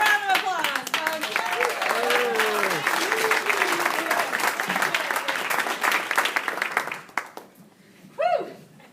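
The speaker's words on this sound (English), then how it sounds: "Give them a round of applause, folks." An audience claps in a dense burst of applause with cheering voices over it, then fades out and leaves a short exclamation near the end.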